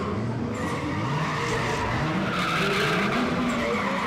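A left-hand-drive A31 Cefiro drift car skids through a turn at a drift event in the Philippines. Continuous tire squeal rides over the wavering engine note, loud and sustained throughout.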